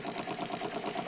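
A Bassett-Lowke model steam engine from around 1900 running smoothly on its first steam test, a faint fast regular chuffing and mechanical clatter, steady and close.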